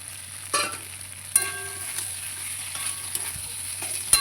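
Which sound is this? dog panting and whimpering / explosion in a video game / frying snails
frying snails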